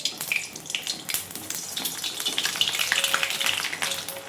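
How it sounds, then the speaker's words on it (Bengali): Chana dal dumplings (pulis) frying in hot white oil, a steady crackling sizzle with bubbling and occasional sharper pops, moderately close and without talk. "এখন আমি সব ভেজে নেব।"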